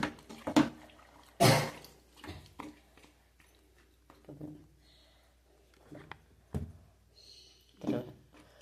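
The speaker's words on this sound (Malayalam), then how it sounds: "ഇച്ചിരി വെള്ളം ഒഴിച്ച് കൊടുക്കട്ടെ." Water is poured into a pot of chicken curry cooked with ash gourd (kumbalam) in a handful of short, separate splashes and pours with quiet gaps between them. The sounds are close and there is no talking.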